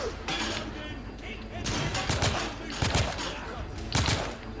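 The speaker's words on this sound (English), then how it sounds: "it's actually relatively accurate for a machine gun" Machine gun fire in The Order: 1886, a steady battle din punctuated by several sharp, loud bursts of automatic shots, with no voices.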